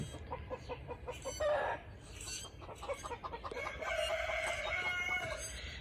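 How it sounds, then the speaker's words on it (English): A rooster crows over a busy backdrop of clucking chickens and chirping birds, the calls rising and falling several times at moderate distance. "You just heard him crow."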